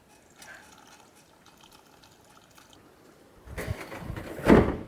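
Water splashes and runs through an IBC tank being flushed on a small off-grid farm, faint trickling at first, then a louder close gush and slosh near the end.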